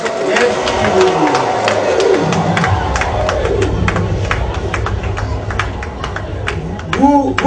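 An audience at a New Year's Eve reconciliation gathering in Guinée forestière applauds and cheers, scattered claps rising from a busy, continuous crowd din with voices talking throughout.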